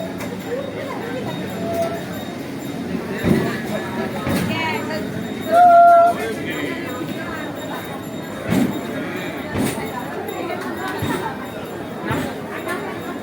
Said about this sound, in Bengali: আমাদের ট্রেন দক্ষিণ চব্বিশ পরগনার বিস্তীর্ণ জনপদের বুক চিরে দ্রুত তার গন্তব্যের দিকে এগিয়ে চলেছে